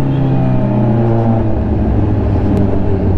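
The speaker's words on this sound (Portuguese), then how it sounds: "Queria apenas mostrar pra vocês a CB1000 com G-Scape" A Honda CB1000R motorcycle fitted with a G-Scape aftermarket exhaust runs close by, giving a loud, steady, deep engine rumble with strong layered tones throughout and no talking.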